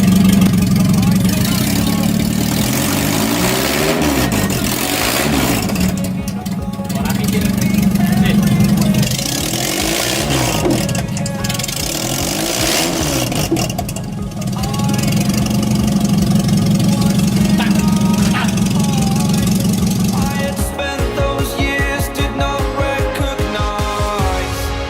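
A swapped engine in a Honda Accord Maestro (CB7) idles steadily and loudly throughout, a low continuous rumble that shifts to a rougher, faster pulsing near the end.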